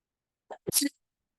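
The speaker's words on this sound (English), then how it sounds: "I'm about to sneeze" A single short sneeze up close: a small intake followed by a sharp, breathy burst, then silence.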